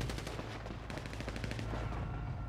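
Gunfire rings out during a police raid on a street party, rapid repeated shots in quick bursts, loud and echoing over a constant background din.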